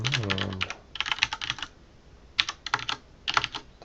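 Bursts of quick typing on a computer keyboard, clustered keystrokes with short pauses between runs, close and clear with no talking.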